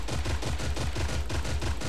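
Rapid automatic gunfire from the Creative Destruction video game, a dense, steady rattle of repeated shots running continuously at close range and high volume, with no talk over it.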